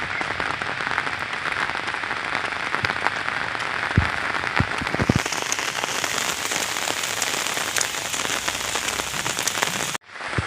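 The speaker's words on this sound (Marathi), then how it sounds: "तर म्हणावा तितका अजून जोरदार पाऊस पडलेला नाही." Evening rain falling on a Konkan village near Ratnagiri, a dense, even patter of drops on surfaces that holds steady throughout, with a brief dip near the end.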